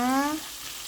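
Mackerel fries in hot oil with a brief crackling sizzle, opening with a short tonal hum that fades, leaving soft steady frying.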